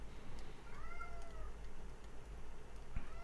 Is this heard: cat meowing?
yes